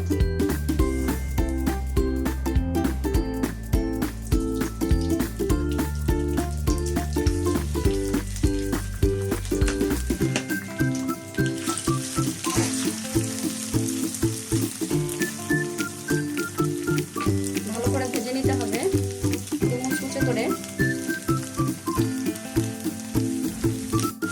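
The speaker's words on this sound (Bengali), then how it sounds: "একদম লাল করে মুচমুচে করে ভাজা হয়ে গেছে" Spiced banana blossom fries in a pan of hot oil with a continuous sizzle and crackle, partly masked by prominent background music.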